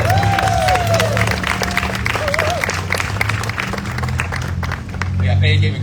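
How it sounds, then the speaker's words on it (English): Crowd applause and clapping at an outdoor Youth Day gathering, a steady dense wash of hands sustained for several seconds with some voices and cheers mixed in, swelling again toward the end. "Let's give everyone a round of applause."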